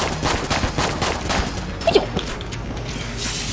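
A boss in the video game Enter the Gungeon fires a spread shot, a dense, rapid rattle of overlapping gunfire effects that continues through the whole moment.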